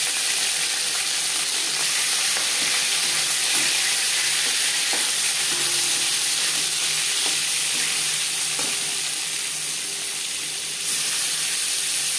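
Rohu fish frying in oil in a pan, a steady bright sizzle running throughout with occasional light scrapes and clinks, close and continuous with no talking.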